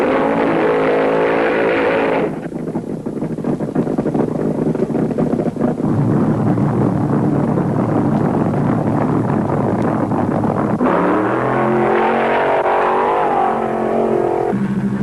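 Top fuel dragsters at the 1973 IHRA Northern Nationals in Muncie, Indiana, roaring down the drag strip with loud, sustained engine noise and rough wind buffeting, the tone shifting sharply as the cars pass and the pitch rising again near the end.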